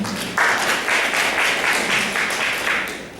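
A seminar audience welcomes a speaker with applause. It starts with a few claps and swells into a full, steady ovation with an audible pulse, then eases slightly near the end.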